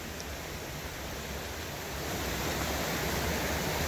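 Water of the 45 ft Falling Springs waterfall pours steadily as a broad, even rushing hiss that swells a little louder in the second half, with no voices.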